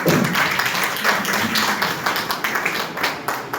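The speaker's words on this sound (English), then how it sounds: "Applause." Audience applause at a student convention, a dense patter of many hands clapping steadily throughout, fairly loud and close, with no talk over it.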